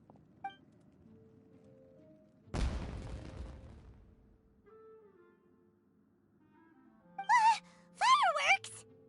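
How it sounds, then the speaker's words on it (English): Fireworks burst in a Genshin Impact scene: one loud, broad blast near the start that trails off, followed by quieter ambience and later by sharp vocal cries. "It sounded like fireworks."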